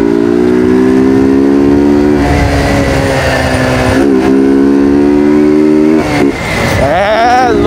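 Honda Titan 150 motorcycle accelerating hard through the gears on a city avenue at night, loud rising engine pitch that drops with each shift before climbing again, close to the microphone.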